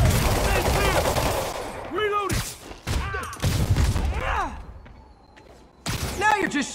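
Bursts of gunfire in the Marvel's Spider-Man Remastered video game: sharp shots in several clusters mixed with in-game shouting voices, then a brief lull before another volley near the end.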